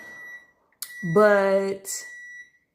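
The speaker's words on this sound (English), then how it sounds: "I'm sorry for the beeping every 5 seconds." A steady high electronic beep tone runs throughout while a person speaks over it, with a brief hiss and short clicks.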